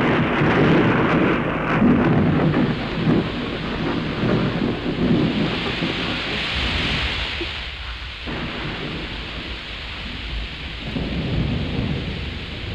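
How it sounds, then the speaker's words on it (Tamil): A sudden rain shower pours down loud and steady, with rolling thunder rumbling through the first seconds before the rain hiss carries on alone. "என்ன இப்படி திடீர்னு மழை வந்துச்சு?"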